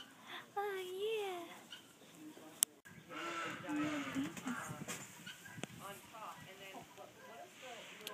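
Goats and sheep on a farm bleat in wavering cries, some close and some farther off, mixed with voices talking nearby.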